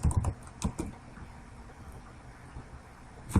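A DOS copy command being typed on a computer keyboard: a short run of close key clicks, then a quieter pause and a final keystroke, with no speech.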